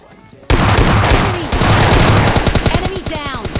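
Gunfire in the mobile game PUBG Mobile Lite starts abruptly and runs as loud, rapid automatic bursts, dense and continuous at first, then breaking into separate quick shots.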